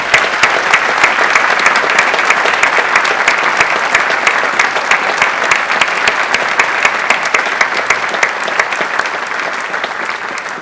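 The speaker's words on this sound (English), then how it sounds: "Please join me in giving these graduates a very warm welcome round of applause." Loud, dense and steady applause fills a large hall at a university graduation congregation, with many hands clapping continuously for the whole stretch and no voices on top.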